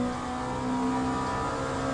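A race car engine in the sim game Le Mans Ultimate revs loud and steady, holding a sustained whining drone with no voice over it.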